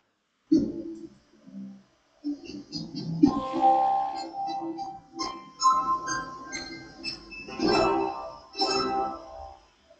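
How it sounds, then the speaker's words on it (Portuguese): Plucked harp strings ring out in a flowing run of notes, bright and resonant, with overlapping tones decaying gently. "Este é o som da harpa."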